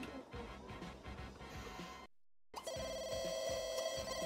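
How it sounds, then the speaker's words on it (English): Telephone ringing in the video game Desiderata Valley, a steady electronic ring with sustained tones continuing after a brief silent gap, set against busy game background sound. "The phone's ringing."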